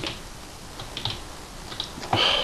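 Quick, clacky typing on a cheap computer keyboard, close and fairly loud, in uneven bursts that end in a heavier flurry of keystrokes, with no talking.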